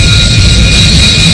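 Loud, steady roar of a Prowler jet aircraft's engines in flight, a constant close drone with a faint whine above it and no voices.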